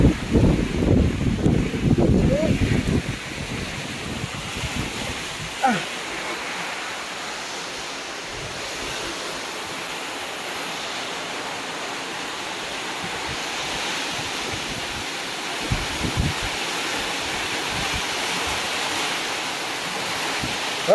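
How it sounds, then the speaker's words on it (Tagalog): A steady, loud rush of heavy rain driven by strong wind, with a deeper rumbling gust at the start before it settles into a constant roar. "Medyo malakas ang ulan. May kasamang hangin."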